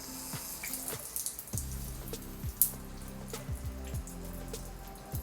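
Water drips steadily from a leaky shower, a quick run of distinct close plinks and drops falling into a wet tiled stall, with no voices present.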